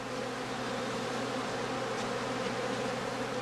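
A dense mass of honeybees clustered around their queen after a skep harvest, producing a constant, close, full-bodied buzz with no breaks or voices.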